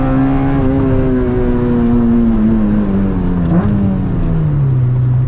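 A K20-engined Honda Civic track car revs hard and loud through its gears, the engine note climbing toward the limiter, dipping sharply at a shift around mid-clip, then pulling again in a steady, close drone.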